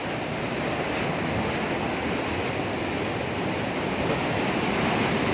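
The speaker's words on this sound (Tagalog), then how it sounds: "Kaya medyo lumakas na hangin." Strong typhoon wind from Typhoon Odette roars continuously at close range, a dense, unbroken rush of noise buffeting the microphone without letup.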